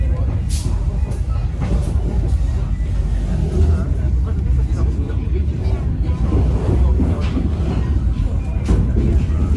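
A Garut local train passes close by on the right, a loud, steady rumble of wheels and carriage noise running throughout, with a voice speaking over it.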